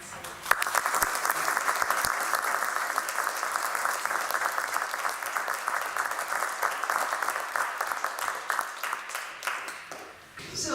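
Sustained audience applause welcoming lecturer Nancy Ševčenko at a London talk, steady dense clapping for about ten seconds before fading out.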